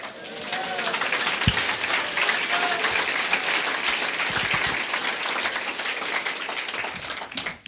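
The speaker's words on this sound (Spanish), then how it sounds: "Fuerte aplausos a Cristo." A church congregation claps loudly and continuously in praise of Christ during a service, a thick, sustained roar of many hands with a few low thumps, and voices faintly mixed in.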